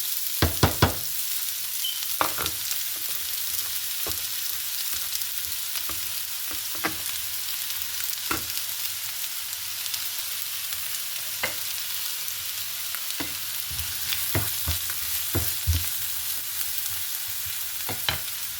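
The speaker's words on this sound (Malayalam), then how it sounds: "ഓണിയൻ ചോപ്പ് ചെയ്ത് ഇതേപോലെ വച്ചിരിക്കുന്നത് ഞാൻ അതിനകത്തേക്ക് ആഡ് ചെയ്ത് കൊടുക്കുകയാണ്" Chopped onion fries in hot oil for a Hyderabadi green chicken, a loud continuous sizzle close by, punctuated by repeated sharp crackles and spatters throughout.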